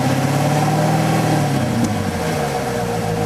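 Corvette V8 with B&B Bullet exhaust running close by, a steady loud rumbling drone with a slight rise and fall in pitch as the throttle is blipped.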